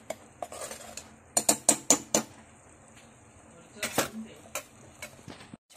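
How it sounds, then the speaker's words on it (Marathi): Metal spoon scraping and clinking against a pan while tomato paste is sautéed for hotel-style palak paneer, several quick knocks in a burst then more later, close by and fairly loud over faint background hiss. "त्यानंतर टोमॅटोची पेस्ट टाकून घेऊ, थोडस चांगलं परतून घेऊ"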